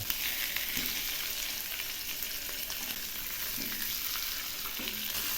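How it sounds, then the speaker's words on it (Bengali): Fish frying lightly in oil in a pan for Bengali fish paturi, a continuous soft sizzle with occasional faint scrapes, close and even in loudness, with no speech. "একটু হালকা করেই ভেজে নেব,"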